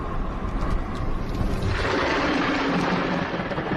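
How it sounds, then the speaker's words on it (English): Lightning strikes close to a car during storm chasing: a loud, continuous hiss of corona discharge gives way to a broad, roaring crash of thunder that fills the sound and then holds steady. "Did you hear that hiss right before the strike?"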